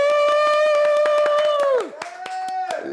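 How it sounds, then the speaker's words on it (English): Clapping hands from a studio audience welcoming a talk-show guest, with a sustained whooping voice riding over the claps before it drops away; brief, close and steady. "So let's get it clapping up."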